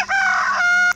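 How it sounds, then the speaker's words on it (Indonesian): A rooster crow played from an animal sounds app: one loud, sustained cock-a-doodle-doo lasting most of a second, clear and alone with no talking. "akan terdengar suara ayam."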